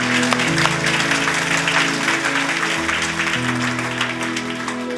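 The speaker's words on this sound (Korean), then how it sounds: "우리 하나님께 감사의 영광의 박수 올려드리기를 원합니다." A congregation at a Korean healing worship service claps together in a steady, dense burst that continues for several seconds. Sustained tones ring underneath the clapping, and no one speaks.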